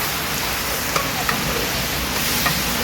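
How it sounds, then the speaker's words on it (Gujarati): Whole spices such as cloves, pepper and cumin sizzle in hot oil as a vaghar tempering for rajwadi kadhi, cooked in bulk for 500 people. A steady, dense crackling hiss carries a few faint pops. "હવે આ તમે જે વઘાર જોયો હોય"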